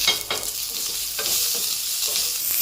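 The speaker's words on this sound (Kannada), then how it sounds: "ಈಗ ನಾವು ಈ ಒಣಮೆಣಸಿನ್ಕಾಯಿನ ನಾಲ್ಕನ್ನ ಇದರಲ್ಲಿ ಹಾಕ್ಕೊಳ್ತೀನಿ ಇದ್ರ ಜೊತೆಗೆ ಕರಿಬೇವನ್ನು ಸಹ ಹಾಕ್ಕೊಳ್ತೀನಿ" Dried red chillies and curry leaves frying with onions for a banana flower chutney, giving a steady close sizzle with brisk spoon stirring and scraping in the pan.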